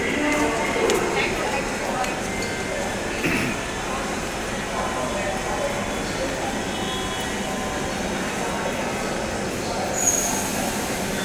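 A Dhaka metro train rumbles along steadily with wheel and rail noise, rising faintly to a brief squeal near the end, while voices talk over it.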